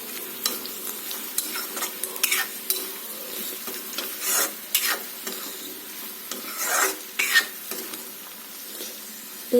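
Cumin and coriander seeds fry gently in a pan over very low heat, a soft continuous sizzle broken by repeated scraping strokes of a spoon stirring them, close by with no talking.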